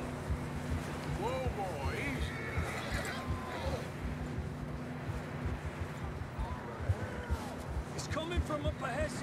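Horse whinnies and neighs in the Red Dead Redemption 2 video game, two clear calls rising over steady outdoor ambience with hoof sounds, while someone talks over it.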